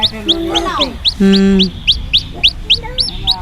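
A chicken with a hurt leg and others cluck and chirp close by in a quick series of short calls, with a few louder squawks mixed in.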